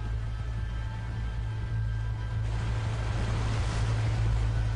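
Rushing floodwater in a film scene: a dense, steady roar of churning water and wind, swelling louder toward the end, with no voices.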